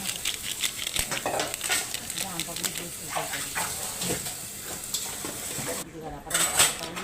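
Fried rice turned in a pot with onion, a spoon scraping and clinking steadily over a soft sizzle, close and busy, with a voice speaking briefly underneath.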